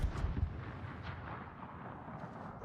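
Naval gunfire from warships in World of Warships thunders in a continuous deep rumble, with a few heavier booms early on fading into a sustained low roar.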